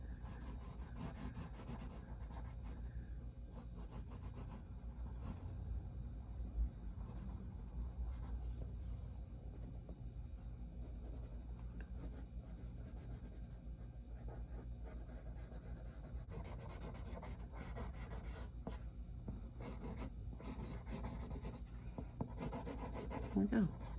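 A pencil draws on paper in a steady, quiet scratching and rubbing of graphite across the sheet, continuous and close, with a low background rumble underneath.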